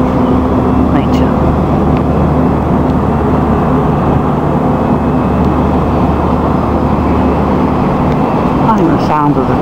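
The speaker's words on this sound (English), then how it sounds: "I think the sound of the traffic is quite relaxing because it's making a nice swishing noise." Road traffic beside a patch of wasteland gives a continuous loud, broad swishing roar, steady throughout with a faint passing whine near the end.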